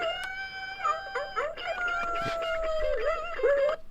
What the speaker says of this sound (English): that's a fun sound right there in howl mode